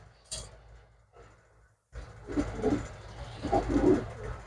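Pigeons coo in low, soft murmurs close by, with rustling and handling noise growing busier in the second half.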